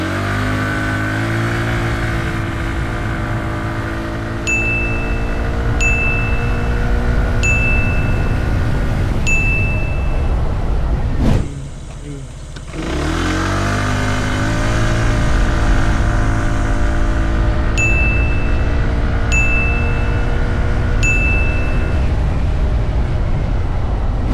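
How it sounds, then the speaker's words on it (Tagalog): A Zontes 150X motorcycle, a 150cc bike with an aluminum frame, accelerates hard and loud with rising engine tones through the gears, dipping briefly around a shift before pulling strongly again. "Tingnan natin pagdating sa acceleration kung gaano kawapak yung makina nito."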